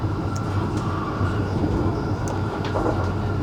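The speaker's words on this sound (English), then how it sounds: "Right as the train was pulling in" An HS1 high-speed train pulling into a station, a steady rumbling roll with occasional clicks and brake hiss, fairly close and continuous with no talk.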